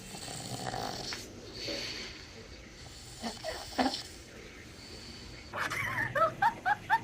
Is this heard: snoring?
yes